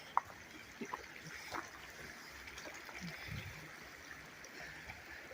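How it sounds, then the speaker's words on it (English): A river in King's Forest, Hamilton, Ontario flows with a steady, faint hiss of moving water, broadband and continuous, broken by a few small splashes and trickles close by. "I'd like to get some filming of the river or whatever by itself."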